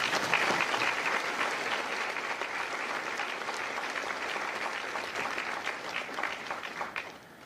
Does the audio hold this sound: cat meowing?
no